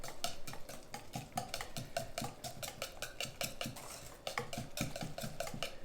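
Pumpkin pie filling stirred in a bowl with a metal utensil, rapid rhythmic scraping and clinking against the bowl, close and steady with no talk.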